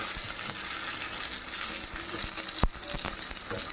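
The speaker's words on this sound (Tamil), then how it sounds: "இரும்பு வானல் போட்டிருக்கேன் அதில் இது வந்து தேங்காய் எண்ணெய் தான் ஊற்றி தாளிக்கணும்" Onion, mustard seeds, urad dal, chana dal and dried chillies frying in coconut oil in an iron pan, a steady close sizzle and crackle throughout, with one sharp pop near the end.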